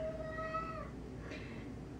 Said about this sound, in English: disregard that sound, that's my cat.